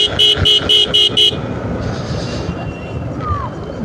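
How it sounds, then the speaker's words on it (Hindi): A car horn sounds in a quick series of about five short, loud toots on a Kashmir street, followed by road and traffic noise. "क्यों हॉर्न मार रहा बार बार।"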